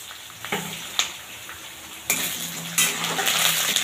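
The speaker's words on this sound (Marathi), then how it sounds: "मोहरी टाकून घेतली." Mustard seeds dropped into hot oil in a pan crackle and sizzle, with a few sharp clinks of a utensil against the pan before the frying bursts up loudly and keeps spitting.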